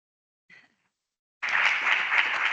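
Audience applause for the speakers at a transport policy session, starting abruptly after a brief murmur and then holding steady, dense and fairly loud, with no talk over it.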